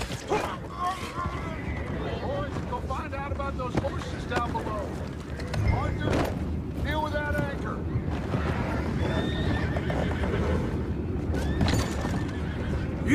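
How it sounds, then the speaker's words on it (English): Horses whinny and neigh several times amid busy game noise, clattering and rumbling, while voices talk over the scene in Red Dead Redemption 2. "Those horses down below."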